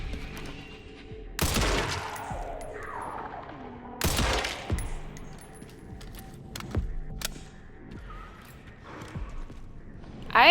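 Shotgun blasts in the Resident Evil Requiem video game, two loud booming shots a few seconds apart followed by fainter reports and clanks, set against a quiet, tense ambience.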